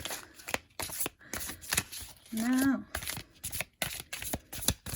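Tarot cards being shuffled by hand in a series of quick riffling, fluttering bursts up close, with a voice speaking briefly partway through.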